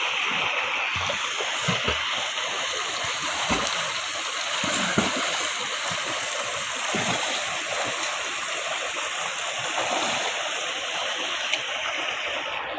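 Hot water sloshes and splashes as someone wades in to swim, with a steady rushing wash broken by scattered splashes, close by and fairly loud throughout.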